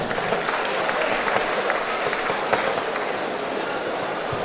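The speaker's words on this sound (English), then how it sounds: "Clap for her, please." An audience at a university orientation programme for fresh students claps for a student, a steady even wash of applause from a large hall that holds for the whole stretch.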